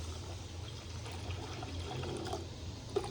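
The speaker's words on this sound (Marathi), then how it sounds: "तर आपण याच्यामध्ये आता पाणी टाकूया." Water trickles and pours into mixed neer dosa batter in a bowl, a soft, steady, quiet pour with a small clink near the end.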